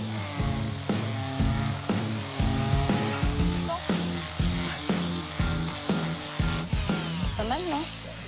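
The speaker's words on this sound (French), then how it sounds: "il va falloir y aller plus franco avec la ponceuse" A power sander buzzes and grinds against a painted desk in repeated strokes, with a rhythmic pulsing as it is pushed back and forth.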